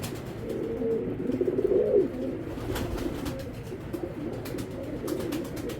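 Foreign racing pigeons coo close by in soft, throaty rolling calls, one clearer burst standing out, with faint shuffling and light clicks around them.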